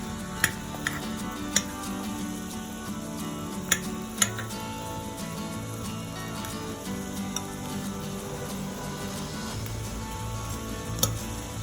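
Blue prawns fry in a pan, a low steady sizzle running throughout while sharp clicks and taps of a utensil turning them ring out at irregular moments, mostly early on.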